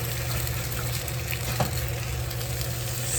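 Onions fry in a pan in oil left over from cooking sausage, giving a steady, dense, close sizzle that stays even throughout, with a faint stir or clink partway through.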